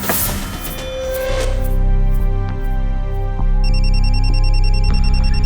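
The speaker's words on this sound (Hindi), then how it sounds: "ये बुल्लर अंकल का फोन आ गया।" A phone ringtone goes off over a loud dramatic music score in a crime drama, rising in pitch and repeating in pulsing tones toward the end.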